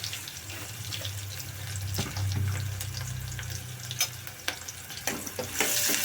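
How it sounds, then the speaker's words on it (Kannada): Ridge gourd sprinkled with turmeric frying in a pan, a steady hiss like running water with irregular spatula taps and scrapes growing busier toward the end. "ಸ್ವಲ್ಪ ಫ್ರೈ ಮಾಡ್ಕೋಬೇಕು."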